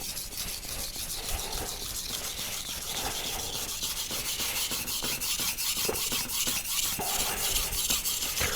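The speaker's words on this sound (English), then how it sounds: "So I'm going to sharpen my knife on this 400 grit stone." Knife blade scraping back and forth on a 400 grit whetstone in steady, rhythmic strokes, close and continuous with a gritty rasping texture, no talking.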